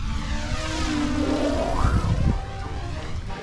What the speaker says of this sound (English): that helicopter's flying around somewhere. You can hear it.